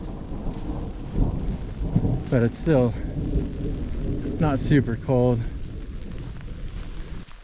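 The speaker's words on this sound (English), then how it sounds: "as it starts to rain harder" Rain keeps falling on a granite mountain trail at Yosemite's Cathedral Lake during a thunderstorm, a steady wash of rain with low rumbling, while someone talks close by in several bursts.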